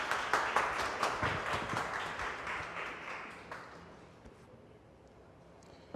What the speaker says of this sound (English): Let us give a round of applause and welcome on stage our esteemed speaker